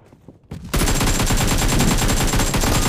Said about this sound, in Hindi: मेरे पे शॉट आ रहा है बस